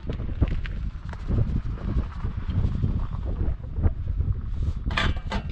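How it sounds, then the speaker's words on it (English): Strong outdoor wind buffets the microphone in continuous rumbling gusts, loud and close, with faint clatter behind it. "it is a very windy day"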